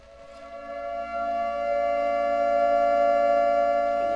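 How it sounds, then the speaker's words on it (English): A steady, rising wail of an air raid siren at a speedway, swelling in loudness and then holding a sustained, tonal drone. "get ready to sound the air raid sirens"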